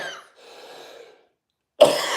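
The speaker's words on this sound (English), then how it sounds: "I'm sorry about the coughing" Two harsh coughs close by, the first followed by a rasping breath, then a short silence before the second cough bursts out.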